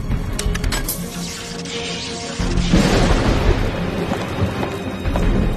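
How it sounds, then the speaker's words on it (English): Tesla's transformer throwing a 40-meter man-made lightning discharge into the air, a loud crackling burst with sharp snapping pops that swells into a sustained roaring rumble like close thunder, with no talk. "I had created man-made lightning that was 40 meters long."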